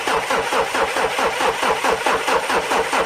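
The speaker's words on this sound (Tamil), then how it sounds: "வண்டி ஸ்டார்ட் பண்ணுவோம்." A car engine cranks over and over, a rough, rhythmic churning of the starter repeating at a steady pace, loud and close, without ever settling into a clean idle.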